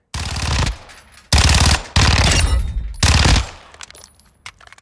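Kriss Vector submachine gun in Call of Duty Modern Warfare II firing four loud, close bursts of rapid automatic fire, each about a second long, with short pauses and a fading tail between them.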